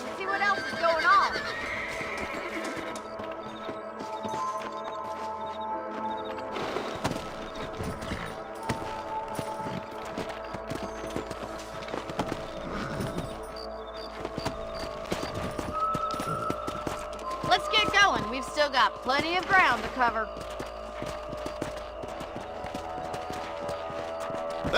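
Horses neigh and hooves clip-clop in the Western video game Red Dead Redemption, a whinny rising over steady galloping amid game music and ambience, with a voice speaking over it.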